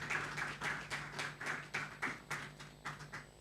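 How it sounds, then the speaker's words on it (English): Applause from a summit audience at a wealth event, a soft, even patter of clapping heard from some distance and fairly faint, with no voices over it. "A round of applause."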